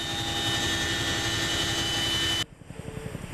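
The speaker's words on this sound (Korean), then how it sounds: "시끄러운 엔진음이 600m 상공에 머물자" A loud aircraft engine drones steadily overhead at about 600 m during a special-forces parachute jump. It cuts off abruptly and gives way to a quieter, pulsing engine rumble.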